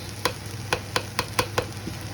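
Food mixed in a pot with a spoon, six or seven sharp regular knocks and scrapes against the pot roughly every quarter second over a low background hum, no talking.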